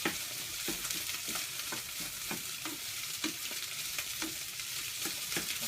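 A spatula stirs rice into frying egg in a very small pan, giving steady broadband sizzling with repeated scraping strokes at a regular rhythm, close and fairly loud, with no voices.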